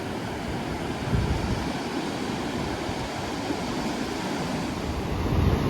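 Ocean surf rolling onto a wide, open beach on the Portuguese coast, a continuous broad roar of breaking waves with gentle swells in intensity, steady and moderately loud with some wind.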